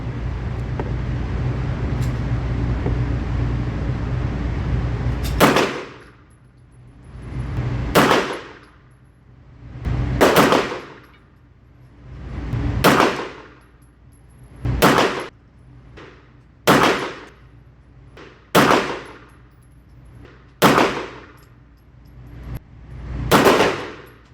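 Pistol gunshots from a Bul Armory SASII Govt, about ten loud, evenly paced reports roughly two seconds apart, each with a short echoing decay, after several seconds of steady background noise.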